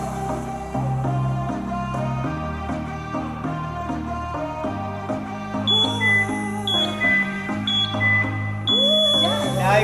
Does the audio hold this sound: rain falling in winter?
no